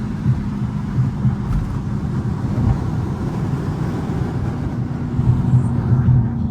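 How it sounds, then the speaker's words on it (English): Wind roars through the open windows of a Hellcat driving on a freeway, a loud, steady low rumble of buffeting air and road noise that fills the cabin with small gusty swells. "All that goddamn wind be getting in the car."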